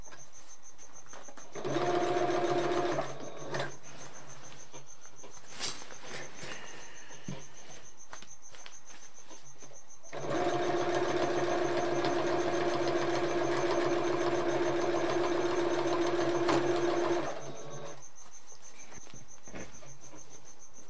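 Sewing machine running through the fabric of a custom surfboard bag: a short burst, a long pause with faint handling noise, then a longer steady run of humming stitching before stopping.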